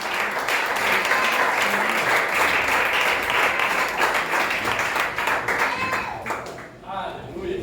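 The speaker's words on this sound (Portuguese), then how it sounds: "Aplauda a Jesus" A church congregation applauds together in dense, steady clapping that fills the room for several seconds, then thins and fades near the end, with voices faintly mixed in.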